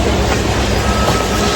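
A passenger train at a station on a Kolhapur to Pune trip gives a steady, loud rumble of railway cars throughout, with a faint high metallic tone running through it and no voices.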